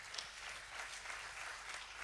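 Faint, distant applause rises from the audience at the final of "The Choice" entrepreneurship award for a laureate, a soft, even clatter with no talk over it.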